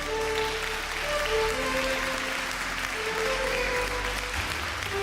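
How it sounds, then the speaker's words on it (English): Applause at an influencer awards ceremony, a continuous even wash of clapping from a large audience held at steady loudness, with a sustained musical tone underneath. "A huge round of applause, ladies and gentlemen"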